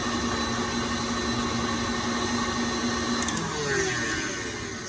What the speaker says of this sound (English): you're gonna whip this until it's very smooth and creamy